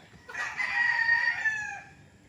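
A single gamecock crows once, loud and fairly close, in a drawn-out call lasting over a second against a quiet background on a farm near Nagcarlan, Philippines.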